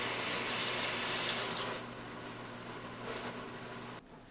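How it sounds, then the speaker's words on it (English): Fresh tap water pours steadily into an EasySprout sprouter, a loud rushing hiss that eases and softens partway through, then stops abruptly near the end. "Run some fresh water in there."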